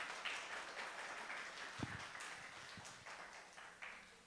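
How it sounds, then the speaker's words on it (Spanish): A church congregation applauds during a Spanish-language sermon, a faint, steady wash of clapping from a distance with a few sharper claps standing out. "Denle un aplauso al Señor por eso."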